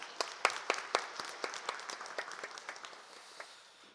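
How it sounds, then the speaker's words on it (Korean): A church congregation gives a short round of scattered applause during a Sunday worship service, with distinct claps thinning out and fading over a few seconds. "한번 격려의 박수 한번 해주시길 바랍니다"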